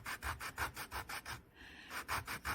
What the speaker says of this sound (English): So this is my P80 Abranet, and it does a nice job, and it's really fast because it's so coarse.